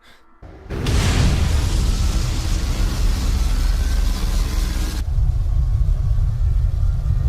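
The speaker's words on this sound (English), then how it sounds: "The cannon is firing upwards?" A cannon fires upward: a loud boom bursts in after a brief quiet moment, followed by a sustained roaring rumble that stays heavy and steady, echoing on.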